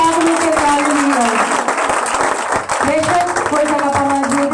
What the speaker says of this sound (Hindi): जोरदार तालियां बजाएंगे पाक रूह के तालियां